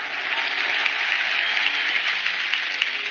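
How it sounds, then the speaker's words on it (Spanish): Steady, dense audience applause in memory of the Chapecoense football victims fills the whole stretch at an even, sustained level, with no talk over it. "E eu queria humildemente que todos pudessem dar uma salva de palmas àqueles irmãos que se foram."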